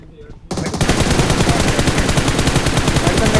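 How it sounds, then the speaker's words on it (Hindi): Rapid bursts of automatic gunfire from the BGMI battle-royale game, some of the shots coming from behind, open after a brief quiet lead-in and then hammer on continuously and loudly to the end. "मेरे को पीछे से भी शॉट्स आ रहे हैं"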